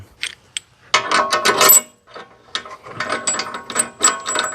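Bursts of rapid ratchet clicking as bolts are tightened during a car bearing and compressor job, several loud, close runs of pawl clicks separated by short pauses, with no talking.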